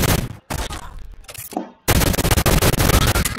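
Rapid, loud gunfire bursts crack in close succession in the online egg shooter Shell Shockers, with a brief gap before another sustained rattling volley.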